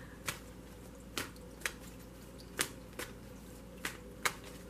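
Tarot cards being shuffled in a quiet room: a series of about seven sharp, light riffles and taps spaced irregularly over a low steady background hum, with no talking.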